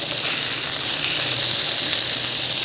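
A constant, loud hiss of burgers frying in a frying pan outdoors in the rain fills the whole stretch, steady and crackly, with no voices over it.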